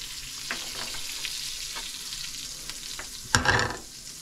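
Butter frying in a pan for buffalo wing sauce, a steady soft sizzle with faint scraping stirs and a louder burst of crackle near the end, moderately close and without talk.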